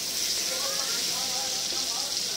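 Cumin seeds with dried red chilli, green chilli and bay leaf sizzle in hot oil for a paneer curry, a steady close hiss throughout.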